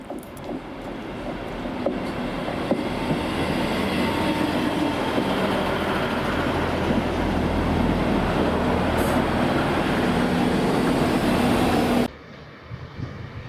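A two-car Class 150 diesel multiple unit arrives at Crediton station from Exeter, its steady diesel rumble and rolling wheel noise loud and continuous for about twelve seconds before dropping away abruptly.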